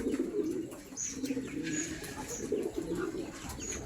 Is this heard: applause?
no